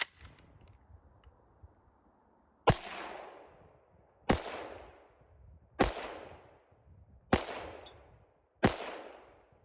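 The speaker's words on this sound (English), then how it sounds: "I'm gonna fire 5 rounds, and then I'm gonna safety it" Five sharp, loud rifle shots from an AKM ring out one by one in a snowy outdoor setting, each crack followed by a decaying echo, after a short quiet stretch at the start.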